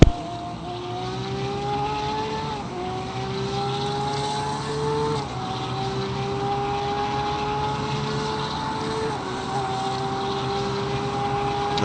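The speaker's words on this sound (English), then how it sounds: "Porsche engine does sound very good." A Porsche race car engine in the RaceRoom racing video game at a Bathurst endurance event, a sustained high-revving drone climbing steadily with upshifts dropping the pitch roughly every few seconds, loud and without talk.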